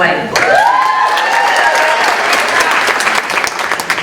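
An audience at a school faculty convocation breaks into loud, steady applause, dense clapping that goes on throughout while a voice talks over it.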